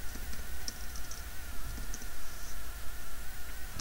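Keys tapped out in a quick, uneven burst while searching for the Chrome Web Store in a browser on Ubuntu, soft clicks over a steady background hum with no voice.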